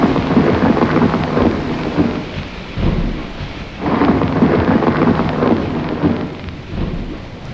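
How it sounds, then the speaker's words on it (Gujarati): Deep thunder rolls and rumbles in long swelling waves over a steady wash of rain in a dawn storm at Girnar mountain, loud and close, with no voices. "વાદળો ગરજવા લાગ્યા."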